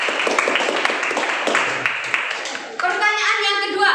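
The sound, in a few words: applause for Febri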